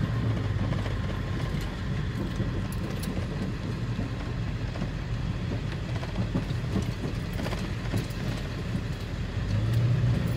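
A vehicle driving along a rough dirt trail to a creek, with a continuous rumbling engine and road noise, rattles and occasional knocks from the bumpy ground, close and steady throughout.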